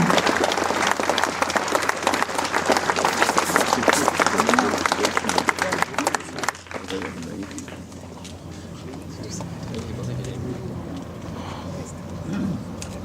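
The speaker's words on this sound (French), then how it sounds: "Applaudissez-le!" An audience at a commemorative ceremony breaks into loud, dense applause, with voices mixed in. It thins after a few seconds into scattered clapping and low crowd murmur.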